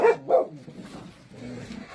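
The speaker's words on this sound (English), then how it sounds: "the coyotes have decided to howl across the street, so now we get yappy doggos" Small dogs yapping across the street at night after coyotes howl nearby, with two sharp barks near the start and fainter yips trailing off, heard from a distance.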